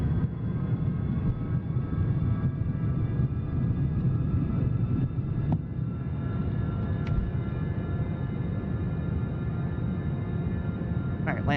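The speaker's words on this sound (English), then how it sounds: "Ooh, this airplane sounds good." Steady turboprop drone of DH8D airplane engines in the X-Plane 12 flight simulator, a loud continuous rumble with a faint whine, holding evenly throughout with a few small clicks near the end.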